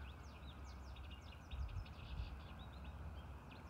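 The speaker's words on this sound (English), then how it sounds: "the birds were chanting, they were singing" Birds sing in a backyard, a faint, distant chorus of quick chirps and trills layered over a soft outdoor hum and occasional low rumbles.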